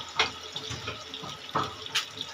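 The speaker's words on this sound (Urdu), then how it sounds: "اور ساتھ میں پانی بھی تھوڑا سا ڈالیں گے" Water splashes in short, uneven pours into a cooking pot of desi kachalu (taro) curry with stock, several quick gushes and trickles heard close and fairly soft.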